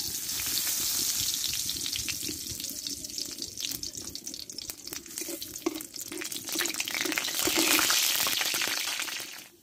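Dried red chilli and nigella seeds sizzle steadily in hot oil in a wok, a loud continuous crackling hiss with scattered pops throughout.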